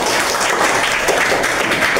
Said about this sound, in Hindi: बहुत सुंदर जवाब, जोरदार तालियों के लिए